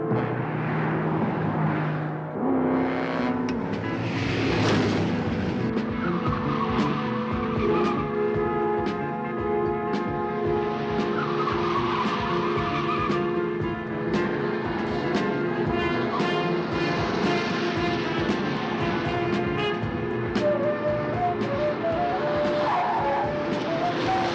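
High-powered race cars roar past with screeching, skidding tires, engine notes rising and falling in loud layered passes and sustained squeals throughout, no talk.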